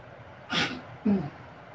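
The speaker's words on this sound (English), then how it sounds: "Had a sneeze." A person sneezes while cooking in a home kitchen, two sharp close bursts in quick succession, the first an airy intake and the second a voiced explosive release, with quiet room tone around them.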